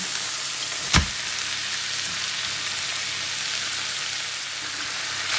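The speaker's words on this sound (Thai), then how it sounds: "จากนั้นใส่หมูสับค่ะ" Minced pork being stir-fried in a pan with onion, a steady sizzle running throughout with one sharp clack near the start, no voices.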